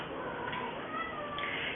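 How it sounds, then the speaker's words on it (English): A black cat meows in a drawn-out, wavering cry that carries for under two seconds, close and clear, with no one talking over it. "the black cat that my sister has"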